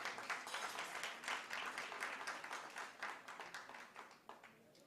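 Audience applause at the launch of a university research chair on campus and school public safety, a steady broadband clapping from a seated crowd that swells and then gradually tapers off over several seconds, with no talk.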